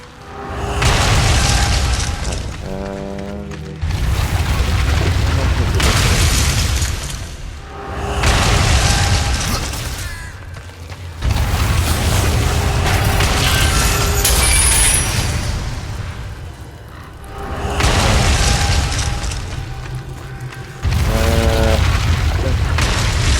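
Combat from the video game Darksiders 2: gunfire and explosions in a loud, dense barrage, heavy booming blasts coming in repeated waves with brief lulls between, and no talking over them.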